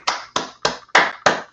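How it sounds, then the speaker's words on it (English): Five loud, sharp hand claps spaced roughly a third of a second apart, close and crisp, each ringing briefly before the next, with no voices over them. "And plus, I can clap loud."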